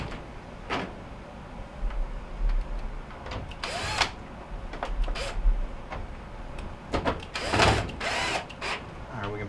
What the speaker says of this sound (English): We can go ahead and put our screws back in.